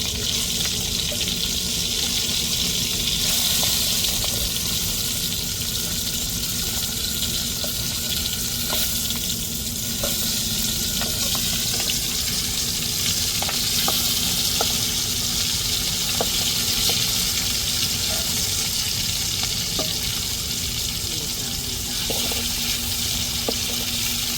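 Fish pieces fry in hot oil in a pan for a mixed-fish curry, a dense, steady sizzle that runs unbroken throughout with a few faint clicks as the pieces are turned, close and loud, with no voice.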